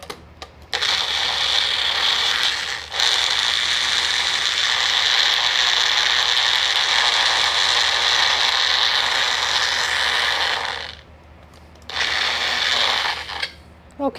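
Blender pureeing a cherry popsicle mixture: a loud, steady high whirring motor runs close for several seconds, stops briefly, then resumes, with short pauses between runs and no talk.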